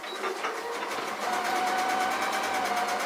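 A sewing machine stitching all the way around fabric bat and ghost shapes, a steady fast mechanical whir with rapid rhythmic needle chatter, close and continuous with no talk.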